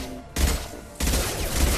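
Gunfire erupts in the video game Mass Effect 2, two loud, dense bursts of shooting with a short lull between them, sounding close and heavy.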